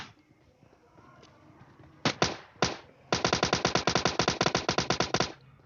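Gunfire in the mobile battle royale game PUBG Mobile Lite: two single sharp shots, then a long rapid burst of automatic fire, loud and evenly spaced.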